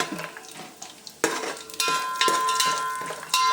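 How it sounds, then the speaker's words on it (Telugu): Coconut, almonds, cashews and raisins frying in melted ghee for semiya payasam, with a soft sizzle under repeated clanks and scrapes of a spoon stirring against the pan, close and fairly loud, with no talking. "నెయ్యి కరిగాక కొబ్బరి, బాదం పప్పు, జీడిపప్పు,"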